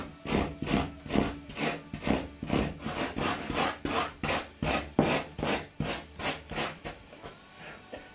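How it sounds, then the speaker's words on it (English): A Surform rasp scraping surfboard foam in steady back-and-forth strokes, about two per second, close and loud, with no talking. "I grab my Surform and start to push it up"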